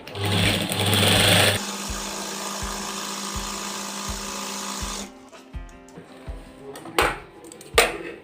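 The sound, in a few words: sewing machine stitching a shirt collar stand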